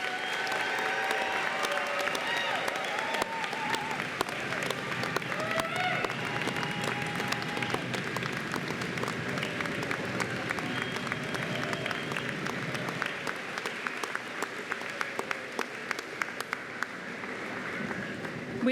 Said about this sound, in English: please help me congratulate the 2019 ADN and PN graduates with a round of applause